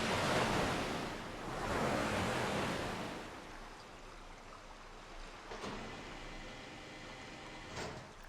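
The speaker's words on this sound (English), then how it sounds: "I think they might have entirely replaced the water effect." Water in the Resident Evil: Code Veronica X remaster plays as a broad rushing wash that swells and ebbs like surf, louder early on and then settling into a softer background flow.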